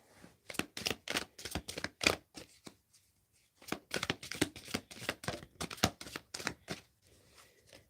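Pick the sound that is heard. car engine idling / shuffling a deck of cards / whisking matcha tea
shuffling a deck of cards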